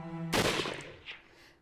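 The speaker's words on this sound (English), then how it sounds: "The crack of a gunshot rang out" A single sharp gunshot crack in a Hakuoki visual novel set in Hakodate, cutting off a sustained musical tone and decaying into a rumbling echo, loud and close with no voices.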